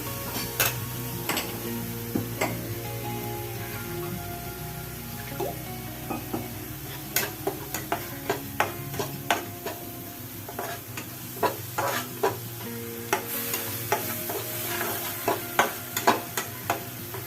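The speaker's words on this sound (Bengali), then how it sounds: "অল্প একটু জল দিলাম, মশলাটাকে একটু কষিয়ে নেবো বলে" Spice paste cooking down in oil with a splash of water for an ilish and brinjal curry, giving a steady soft sizzle under repeated sharp spatula scrapes and taps against the pan, close by, with no talking.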